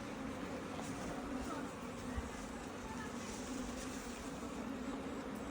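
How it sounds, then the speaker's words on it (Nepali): Honeybees buzz actively around hives at a bee farm, a faint continuous hum with soft outdoor background noise throughout. "हजुर एकदम एक्टिभ छन् मौरीहरू"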